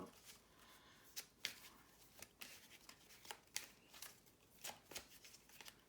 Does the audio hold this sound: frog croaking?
no